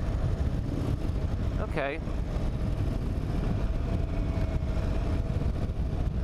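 An Indian Super Chief Limited motorcycle engine drones steadily at close range under rushing wind while riding, with a brief rising rev as the throttle rolls on; a rider speaks a single word partway through.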